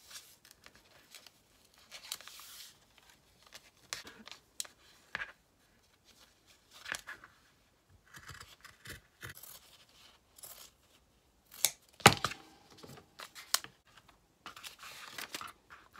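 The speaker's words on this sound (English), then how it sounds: "I'm going to cut it right on the fold" Scissors slicing through folded flannel fabric while making no-sew woodland gnome ornaments, heard as scattered short snips and crisp cloth rustles with quiet gaps, close and fairly soft.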